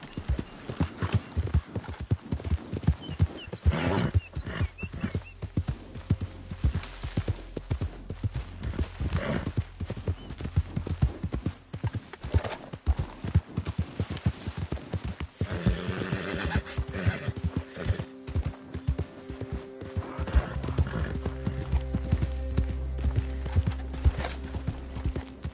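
Horse hooves clip-clopping at a quick, steady pace in Red Dead Redemption 2, with a whinny along the way and brief spoken words over the continuous hoofbeats.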